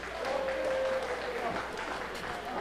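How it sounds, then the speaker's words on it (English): Wrestling fans clapping at a live show in Ontario, a steady spread of applause from the crowd under a commentator's voice throughout. "we heard some fans clapping"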